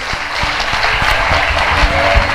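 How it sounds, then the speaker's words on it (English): A church congregation claps loudly and steadily in rhythm, a close, dense wash of many hands with sharp individual claps standing out. "Clap your hands. If you want to clap your hands,"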